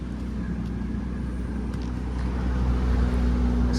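A 2020 BMW 840i M Sport coupe's engine runs at a steady idle, a deep, loud, close rumble that swells slightly toward the end.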